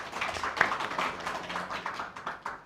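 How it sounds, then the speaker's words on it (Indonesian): An audience at a religious gathering claps for Gus Nur, a steady patter of hands at moderate distance that runs for a few seconds without voices. "Tepuk tangan untuk Gus Nur."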